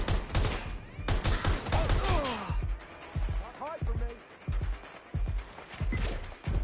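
Rapid bursts of gunfire and automatic weapon fire in a PS5 shooter game, loud and close, mixed with shouted in-game voices and crashing impacts.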